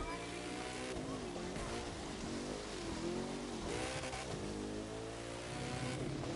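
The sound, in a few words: Koenigsegg car engine on ice track in The Crew 2 video game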